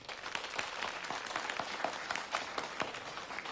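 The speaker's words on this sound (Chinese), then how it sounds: "大家鼓掌欢迎" An audience in a police bureau meeting room claps to welcome a newly appointed commissar, a faint, moderately fast patter of hands from a small group that keeps going without a pause.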